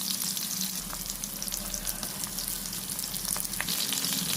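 Green chillies dropped into hot oil with cumin and softened onion, giving a loud, steady, close sizzle with faint stirring scrapes and no talking.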